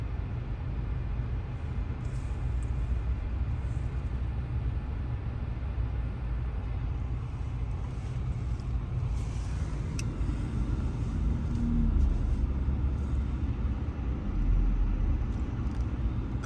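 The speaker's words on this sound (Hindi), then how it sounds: "ट्रैफिक आज ज़्यादा है थोड़ा," Road traffic on a busy working-day street, a steady rumble of passing cars heard from inside a moving vehicle, swelling louder as nearby vehicles pass toward the end.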